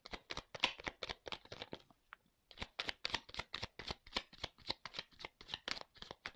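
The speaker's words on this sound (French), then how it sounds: "Je prends 2-3 cartes." A deck of tarot cards is shuffled in quick, crisp riffles and flutters, close and clear, with a brief pause partway before the rapid card slaps resume; no one speaks.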